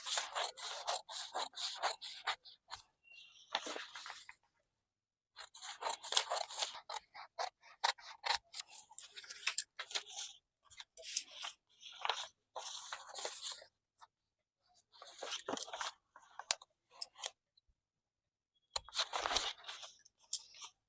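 Scissors snip and rustle through blouse pattern paper and cloth in short, crisp bursts with quiet pauses between cuts, close by and soft, with no talking.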